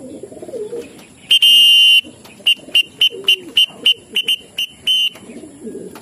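Pigeons arriving at a loft, with soft cooing and a run of short, sharp, repeated electronic beeps from a pigeon-racing arrival clock, about a dozen in an uneven rhythm, heard up close amid low murmuring.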